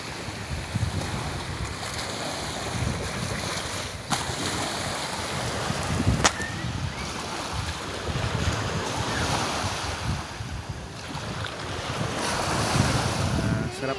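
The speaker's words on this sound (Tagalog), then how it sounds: "ang ano ng hampas ng alon ng tubig" Ocean surf rolls and breaks continuously along a Boracay beach, mixed with gusting wind buffeting the microphone; no talking.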